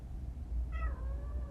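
A pet cat lets out a single short meow partway through, sliding downward in pitch, over a constant low indoor hum with no one talking.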